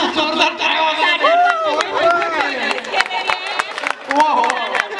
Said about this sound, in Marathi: साठी काका जोरदार टाळ्या वाजवा